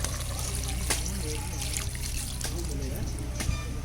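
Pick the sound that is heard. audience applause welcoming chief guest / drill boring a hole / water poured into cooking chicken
water poured into cooking chicken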